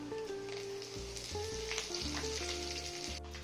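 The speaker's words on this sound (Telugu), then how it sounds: "ఇవన్నీ తాళింపు వేగిపోయింది" Curry leaves tempering in hot oil for a ladies finger and fresh coconut curry, a continuous close sizzle and crackle over a steady low hum, with no talking.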